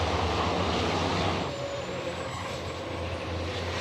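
A racing truck roars by during the 2021 Le Mans truck race, a loud, dense engine noise that fades slightly as it passes, with a faint whine rising above it.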